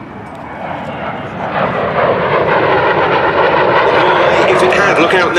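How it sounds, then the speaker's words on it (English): A de Havilland Vampire twin-boom jet of the Norwegian Air Force Historical Squadron runs in at Duxford, its engine roar swelling steadily louder as it approaches, with an announcer talking over it. "the distinctive twin-boom shape of the two de Havilland Vampires of the Norwegian Air Force Historical Squadron running in"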